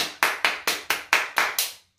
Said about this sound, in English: We're going to clap 7 times.